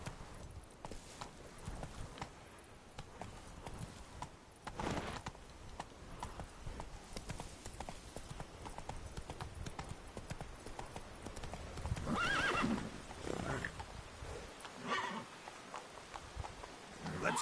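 Horse hooves clip-clop in a steady trotting rhythm while riding in The Witcher 3 on PS5, close and continuous, with a brief neigh partway through.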